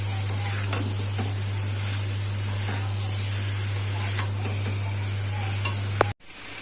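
Masala being stir-fried for a cauliflower and potato curry, a steady close sizzle with scattered ladle scrapes and clicks over a strong low electrical hum, ending in a sharp cutoff.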